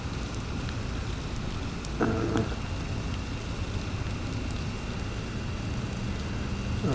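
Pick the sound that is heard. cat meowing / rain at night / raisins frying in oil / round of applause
rain at night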